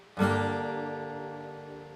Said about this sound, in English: Then I think this is the sound of like your fingers.